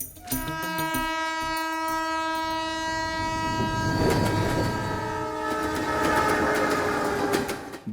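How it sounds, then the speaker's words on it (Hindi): A train pulls into a station, its long sustained horn sounding over the rumble and clatter of rolling wagons, loud and close, with the noise of the wheels swelling as it draws in. "अरे वो देखो, ट्रेन आ चुकी है।"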